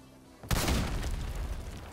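A loud RPG explosion in Modern Warfare Remastered bursts in abruptly after a quiet moment and then rumbles on as a broad, sustained roar for the rest of the moment.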